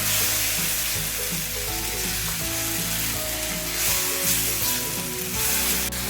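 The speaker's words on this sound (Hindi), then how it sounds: "थोड़ा सा सौते करेंगे तो ऑयल के साथ 1 मिनट के लिए" Garlic and chilies sauté in hot oil, giving a continuous close sizzle with crackling spatter and faint stirring scrapes throughout, no voices heard.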